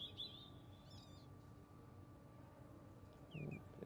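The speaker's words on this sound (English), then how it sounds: "And of course there's the sound of the birds." Faint outdoor birdsong, a few high chirps and trills early and near the end, over a quiet, steady ambient background.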